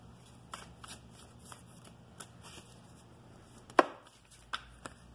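Tarot cards being shuffled: a series of soft, scattered riffles and flicks, with one sharper snap near the end, quiet and close with no speech.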